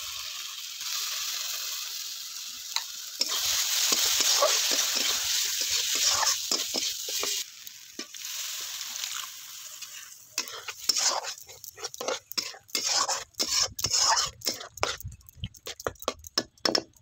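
Masala of tomato, red chilli powder and turmeric frying and being stirred in a pan, a steady close sizzle with scraping strokes that turn into rapid, choppy stirring clatter toward the end.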